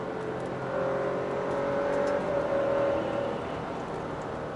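Alfa Romeo Stelvio Ti Sport on all-season tires downshifting through turns, a steady engine drone from inside the cabin that swells slightly in pitch and loudness midway, then eases back.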